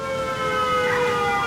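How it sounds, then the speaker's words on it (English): A tsunami warning siren sounds during a test at a surf contest, a loud sustained wailing tone holding steady and close, with no voices over it. "So this first siren you hear is the tsunami warning siren."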